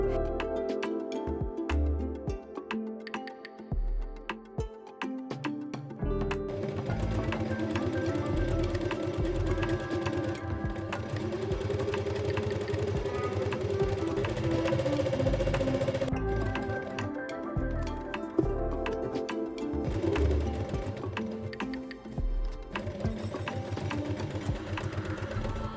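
A sewing machine stitches along the edge of a placket on a PARIS dress, running in a loud, rapid, continuous whir with brief pauses and restarts.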